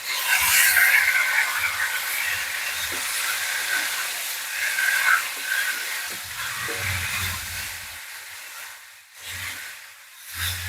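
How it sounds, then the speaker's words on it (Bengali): Salted chicken pieces fry in hot oil for Peshawari karahi, giving a steady sizzling hiss that swells and fades, with occasional low clatter from the pan. "চিকেনটা আমি এবার ওই তেলের মধ্যে দিয়ে দেবো।"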